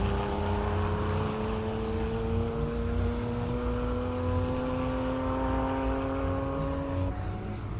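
Classic Porsche race car climbing a hillclimb course, its engine note a steady rising drone heard from a distance, sustained for several seconds under light background noise.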